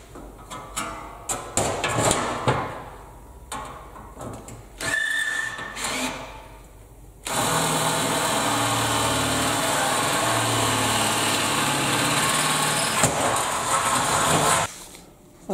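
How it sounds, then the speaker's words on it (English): A power drill bores a hole for a Volkswagen clock, first in short bursts with clatter and knocks, then a long, steady high-pitched whine that stops abruptly. "Right, let's drill it over for the clock."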